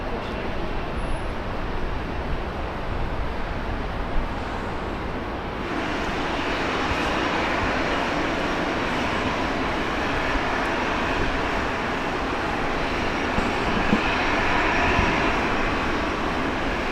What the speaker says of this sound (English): Jetstar 566 landing now.